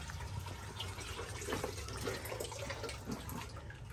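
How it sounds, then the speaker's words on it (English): Dirty water gushes out of a Burnham 175,000 BTU steam boiler during a flush, a steady nearby splashing rush with bubbling and trickling, continuous and without talk. "And you can see we're flushing out the dirty water."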